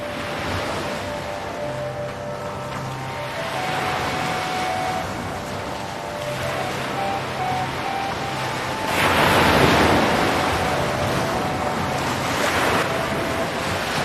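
Ocean waves surging and crashing against the shore at Kanyakumari, the southern tip of India, a loud continuous roar with wind buffeting the microphone and a stronger wave rising midway.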